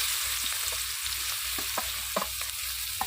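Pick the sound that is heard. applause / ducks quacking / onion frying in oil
onion frying in oil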